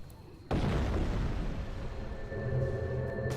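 A flak cannon attack striking multiple targets in Dota 2 during a competitive match, a sudden loud boom that hits after a quiet moment and then rumbles on as sustained battle noise with faint background speech.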